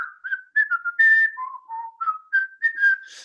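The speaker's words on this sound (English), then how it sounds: "So I play with the whistling" A single person whistles a wandering, melodic tune up close, a clear sequence of sustained pure notes rising and falling with short gaps between phrases.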